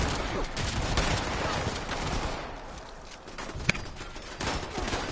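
Automated turret gunfire in Fallout 76, bursts of rapid shots in an uneven rhythm with a sharper crack near the middle, mixed with other game noise at moderate distance.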